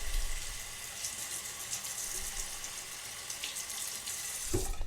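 Tap water runs steadily into a sink to rinse a straight razor between beard strokes, a continuous close hiss that swells near the end.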